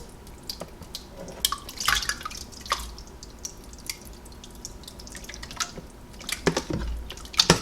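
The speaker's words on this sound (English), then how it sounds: "See if I can get this in here without it splashing or splooshing." Turkey bone broth poured into a jar: soft liquid trickling and dripping with scattered wet splashes and sloshes, close and fairly quiet, ending in a few louder pours, with no talk.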